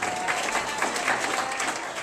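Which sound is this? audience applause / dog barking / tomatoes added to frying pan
audience applause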